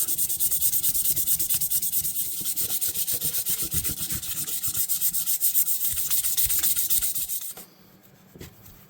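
Rapid rhythmic rubbing strokes of fine 600-grit sandpaper on an antique fisherman knife handle, close and steady for several seconds before stopping abruptly.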